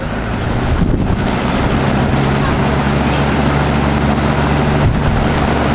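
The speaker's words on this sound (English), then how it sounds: "Of course, the beauty of Toastmaster fans, they kind of do the boogaloo and stuff" A 1990s Toastmaster Model 4433A 3-speed electric fan running, a steady, loud whooshing hum with a low motor drone and no breaks.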